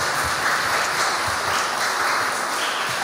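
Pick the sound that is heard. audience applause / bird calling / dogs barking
audience applause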